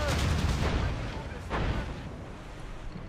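Heavy naval cannon fire from a sailing warship in Assassin's Creed Rogue, two or three deep booming blasts close together over a rumbling, roaring background.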